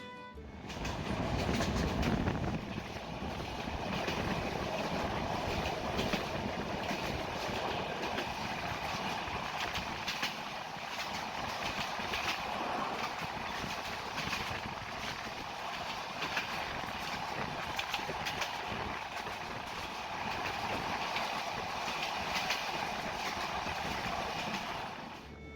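Steady rumble and rattle inside the Benapole Express passenger train running on rails in Bangladesh, continuous wheel and carriage noise with wind, no speech.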